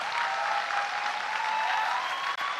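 An audience at a university convocation ceremony claps in loud, steady applause that fills the hall and goes on without letting up.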